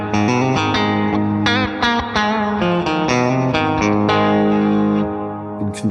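An electric guitar plays a bright, distorted melodic phrase through a Blackstar St James amp plugin with hall reverb, notes ringing out into a long, spacious wash that tails off at the end.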